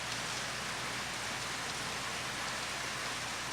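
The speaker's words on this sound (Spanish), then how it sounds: "Por la lluvia estoy algo sordo hoy" Steady, heavy rain falls continuously outside a church during an evening service, a dense hiss with no pauses and no one speaking.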